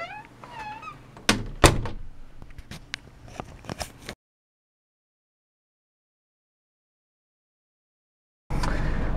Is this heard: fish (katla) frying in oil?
no